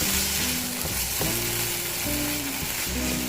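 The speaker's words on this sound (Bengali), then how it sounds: "এবারে মশলাটা ভালো করে কষা হয়ে গেছে" Spice masala sautés in a pan, a dense, continuous close sizzle layered with soft rhythmic stirring scrapes and occasional bubbling pops.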